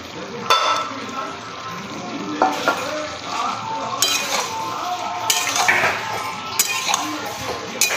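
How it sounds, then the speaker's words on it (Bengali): Broccoli with ground black pepper and pre-fried paneer is stir-fried in a pan, with a loud steady sizzle under repeated metallic clinks and scrapes of a spatula stirring against the pan. "গোলমরিচের গুঁড়ো অল্প করে, নেড়ে দিচ্ছি। আর দিয়ে দেবো পনিরগুলো, ভেজে রাখা পনির।"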